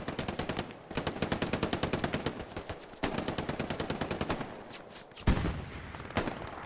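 Sustained automatic machine gun fire from an MG in a World War II-style battleground video game, loud rapid bursts with brief pauses between strings of shots, continuing throughout without speech.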